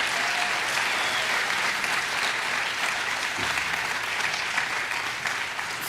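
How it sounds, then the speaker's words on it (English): A large audience applauds at the Wiyi Yani U Thangani National Summit, a dense, steady wash of clapping that holds loud and even for about six seconds with no voices on top. "That deserves a huge round of applause for all of us."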